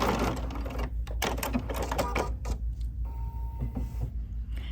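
A sewing machine stitches a quilt block in short bursts of rapid mechanical whirring, stopping and starting several times, close up and fairly loud.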